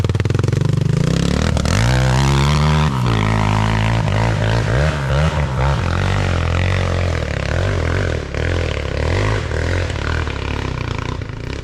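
A motorcycle fitted with a ZS 172FMM 77mm big bore engine revs loudly and accelerates, its engine note climbing, dipping with a gear change, then droning on close by.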